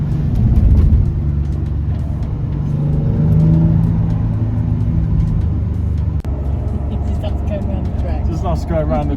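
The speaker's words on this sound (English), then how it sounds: "Us going around the track." A car lapping the Castle Combe race track at about 25 miles an hour, its engine droning and rising slightly in pitch near and loud, with people talking over it.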